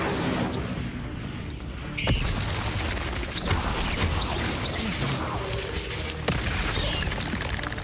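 An Incendio fire spell is cast in the Hogwarts Legacy video game, bursting into a whooshing boom amid a busy layer of crackles, thuds and clattering game effects.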